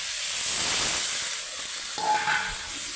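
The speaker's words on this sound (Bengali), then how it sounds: "আলু আর ওলকপিটা ভালো করে কষা হয়ে গেছে এবার আমি এতে জল দিয়ে দেবো" Water hits a hot pan of fried potatoes and kohlrabi cooking into a fish curry, letting out a loud, close burst of steam hiss. It then settles into a steady sizzle and bubbling.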